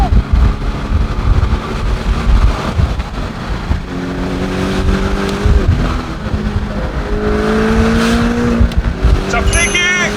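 A Porsche 718 Boxster GTS engine revs and climbs through the gears, loud and close, with rising and falling tones as it accelerates.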